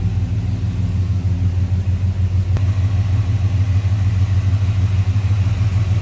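Low, steady rumble of a 1968 Chevrolet C10's 350 V8 engine idling nearby, a continuous loud throb with even pulsing and no voices.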